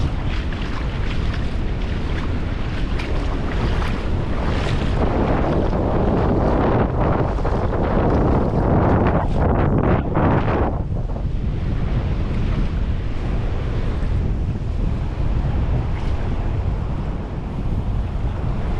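Rough sea waves pound the beach at Santiago de Cuba under strong, constant wind buffeting the microphone, with loud surges of surf and no voices.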